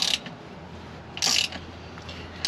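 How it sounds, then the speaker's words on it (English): Ratchet on a 3/8 extension breaking loose a drain plug on an aluminum-case transmission, with three short bursts of clicking close by, separated by quiet pauses. "use our 3/8 extension with a ratchet and just pop this drain plug out of it"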